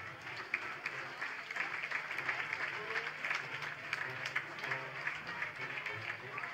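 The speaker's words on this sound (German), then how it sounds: "Und ich bitte euch auch hier nochmal um einen herzlichen Beifall." A carnival audience at the Schwerin Karneval event in 2010 claps together in sustained, dense applause that holds steady from start to finish at moderate distance.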